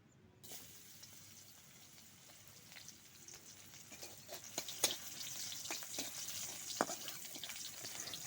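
Garlic tempering hits a pot of cooked greens (saag) with a sudden hiss, then settles into a soft, steady sizzle with scattered crackles and pops, close by but fairly quiet.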